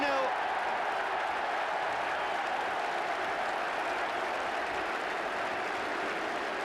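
A football stadium crowd applauds a goal in a 1982 Watford versus Leicester match, a dense, steady wash of clapping and cheering that continues at full strength throughout.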